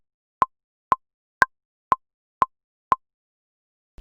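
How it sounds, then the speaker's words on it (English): A metronome set to 120 beats per minute ticks six times in an even, crisp pulse, every half second, clean and close against silence. "If I turn on my metronome, I can hear that."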